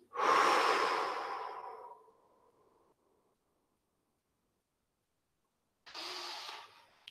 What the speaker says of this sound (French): Soufflez bien.